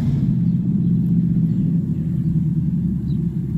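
Steady low rumble of a car rolling past close by on a street, holding an even loudness throughout before easing slightly near the end.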